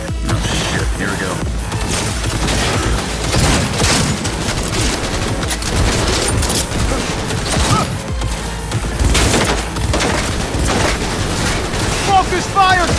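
Heavy video-game gunfire in Cyberpunk 2077, loud sustained volleys and sharp impacts layered with crashes and mechanical clatter, continuous and close throughout.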